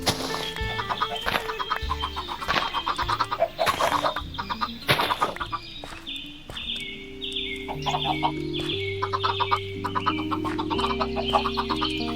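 A flock of chickens clucking in the Minecraft video game, repeated close clucks mixed with blocky game sound effects and tones.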